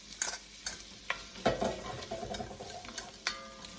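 Holy Trinity vegetables for a vegan jambalaya hit a hot pan and sizzle, with repeated clacks and scrapes of a spoon stirring them, close and moderately loud, with no talking.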